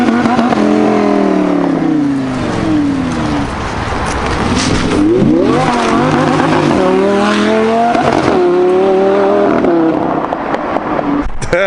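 A rebuilt 2012 Lamborghini Gallardo Super Trofeo race engine revs loudly and close, rising and falling in repeated sweeping pulls with sharp throttle blips throughout.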